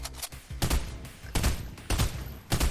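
Gunshots in the video game Fortnite: five or six sharp, loud single shots fired at uneven intervals close by, each with a short decaying tail.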